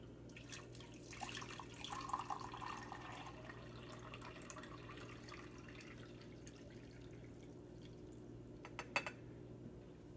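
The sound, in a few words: filling a pot with water from a tap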